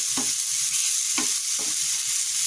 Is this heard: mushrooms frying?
yes